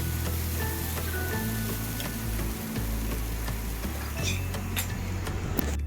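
Okra (vendakkai) frying in a pan, a continuous crackling sizzle with a low steady hum beneath, broken by scraping stirs and a few sharp clinks of a spatula against the pan.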